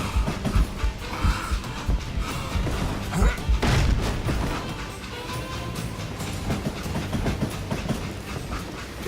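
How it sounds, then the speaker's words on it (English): Train rolling along in the Western video game Call of Juarez Gunslinger, a dense rumbling mix of rail noise and clatter with crashing impacts, heard alongside game voices and action throughout. "It was then that Jesse detached the express car from the rest of the damn train."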